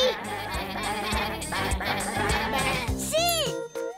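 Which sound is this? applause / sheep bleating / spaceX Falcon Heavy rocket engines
sheep bleating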